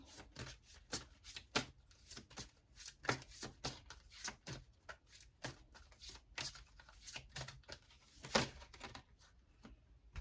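A deck of reading cards is shuffled by hand in quick, irregular bursts of crisp riffling and tapping, close and fairly quiet, with no talk.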